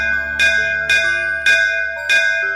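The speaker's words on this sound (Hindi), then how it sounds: "उसने जोर से घंटा बजा दिया।" A large bell rung loudly in a cartoon, four strong ringing strikes at an even pace, each with a bright metallic clang and a sustained humming tail.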